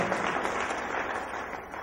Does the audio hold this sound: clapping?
yes